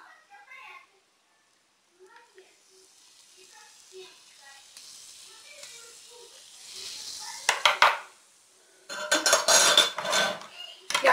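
A spoon stirs milk batter for oladi pancakes in a dish, with soft clinks and scraping that build into louder, rapid clattering strokes, broken by pauses and faint voices early on.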